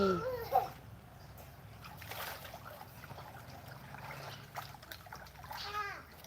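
Children splash and play in water in front of a house in the evening, with light splatter and trickling under nearby kids' voices and chatter.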